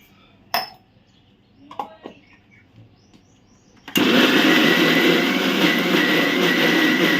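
A kitchen mixer grinder crushes coconut chutney with salt, starting abruptly after a few faint clinks and running loud and steady until the end.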